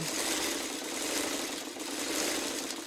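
Sewing machine stitching a quarter inch seam on quilt fabric, a steady, fast mechanical whirring hum that runs continuously and close-up for a few seconds with no talking.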